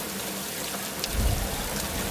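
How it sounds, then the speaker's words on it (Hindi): Steady rain patters down in a continuous wash of noise, with a brief low rumble partway through and no voices. "अचानक से बारिश होना चालू हो जाती है"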